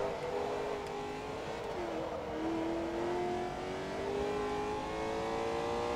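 A race car engine held at full throttle in Forza Motorsport 2, a steady loud drone whose pitch climbs smoothly and holds high, continuous and close throughout with no talking.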